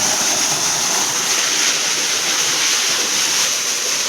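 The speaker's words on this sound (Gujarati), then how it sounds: "પાણી તો ખૂબ આવે છે" Water gushes from a motor pump into a well, making a loud, continuous rushing roar that stays steady throughout without pause.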